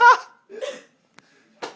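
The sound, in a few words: hiccups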